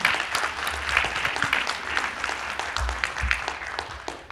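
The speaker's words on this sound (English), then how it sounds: "Let's give a big round of applause." Sustained audience applause at a leadership panel session of a Native Edge Institute gathering in Seattle, with many hands clapping steadily throughout and a few low thumps toward the end.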